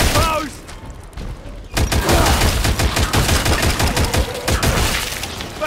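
Video game gunfire from a horde defense match, rapid bursts of shots, loud and close, starting with a few isolated rounds and then breaking into a sustained, fast automatic volley, with a game character's voice heard briefly.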